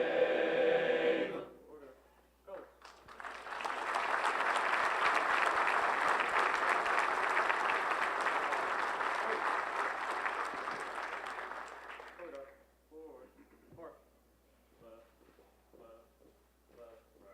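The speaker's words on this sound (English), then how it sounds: "Another big round of applause, please, for the Hannah Men's Choir" Audience applause fills a hall at a 2015 State of the City Address after the national anthem, a long steady burst of clapping that fades out, with a speaker's voice before and after.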